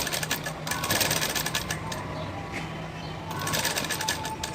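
A sewing machine stitches a blouse with a fast, continuous close whirr, while someone speaks over it in Telugu.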